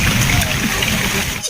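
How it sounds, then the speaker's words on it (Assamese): A motorbike being washed with water: continuous close splashing and trickling water spraying over the bike, fairly loud and steady, tapering off at the very end. "মোৰ বাইকখন ধোৱা গ'ল অলপ"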